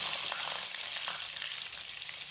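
Sun-dried Nile tilapia fries in hot oil, giving a steady, close hiss of sizzling with small crackles and no voices.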